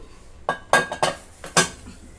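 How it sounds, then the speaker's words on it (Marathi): A metal rack set down inside a heated pressure cooker while preparing an egg and maida cake, giving a quick series of five or six close metallic clanks and clinks with no talking. "त्याच्यामध्ये ती जाळी ठेवली"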